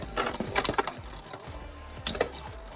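Plastic Beyblade Burst Hypersphere spinning tops clatter and scrape in a small vertical-drop stadium, with sharp clacking hits in bursts and a steady whirring grind between them.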